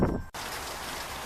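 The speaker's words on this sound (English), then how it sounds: "And it's starting to rain yet again." Steady rain hisses across everything after a short break, a broadband patter of drops on surfaces near an outdoor Saturday farmers' market, even and continuous with no voices.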